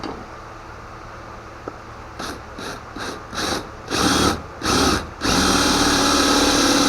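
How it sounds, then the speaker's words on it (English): A power drill boring a hole in a cherry burl clock, several short whirring bursts of rising length followed by a sustained steady drilling whine, close and loud. "I want to get it fairly close so that I can drill this hole"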